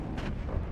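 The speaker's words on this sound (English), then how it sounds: "These mortars are smoking that" Mortar fire in the WARNO video game: a short, dense low rumble of a distant artillery-style blast, sustained through a brief burst.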